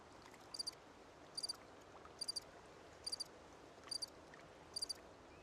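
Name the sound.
played recording of cricket sounds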